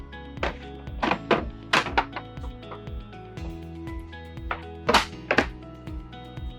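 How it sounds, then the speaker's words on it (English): Kitchen countertop panels in an RV being lifted open over the sink and stovetop, giving a series of dull thunks and knocks in an irregular rhythm, close and moderately loud, with no talking. "I want to open up the panels here from the countertop so we can really show the full sink and the stovetop."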